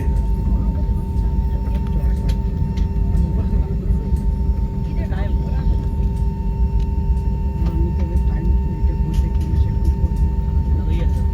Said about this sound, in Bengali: দুটোর সময় ফ্লাইট ছেড়ে দিয়েছে এখন রানওয়ে দিকে এগোচ্ছে